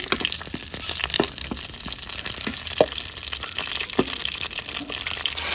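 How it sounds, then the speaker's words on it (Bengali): Curry leaves fry in hot oil in a village kitchen, giving a steady sizzle with scattered pops and crackles throughout. "এখানে দেবো আমি কারি পাতা হালকা করে ভেজে নেবো"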